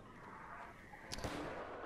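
Grenade blast in an online shooter match, a muffled boom with a brief crackling burst at the end, heard over steady game ambience.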